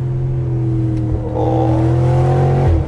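A car engine revs hard while downshifting, a loud close drone that climbs in pitch and swells near the end before cutting off sharply, with a brief exclamation from an occupant.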